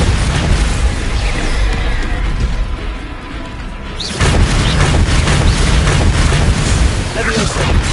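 Spell explosions from Bombarda and Confringo in the Hogwarts Legacy video game on PS5 hit in a steady barrage. Deep, booming blasts run continuously under a dense wash of combat noise, briefly dipping before surging back loud.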